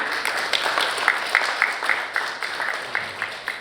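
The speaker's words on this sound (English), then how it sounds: "can we fill this room with a warm round of applause" Light applause from a room of people at a policy forum, scattered claps pattering steadily throughout, moderately distant and not very loud.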